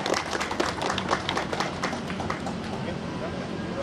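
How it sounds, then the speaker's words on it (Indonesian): An audience at an Indonesian Independence Day (80th anniversary) gathering of the LSM Laskar NKRI group claps together in a brisk burst of applause that is strongest at first, then thins out and fades as talk continues. "Tepuk tangan buat kita semua"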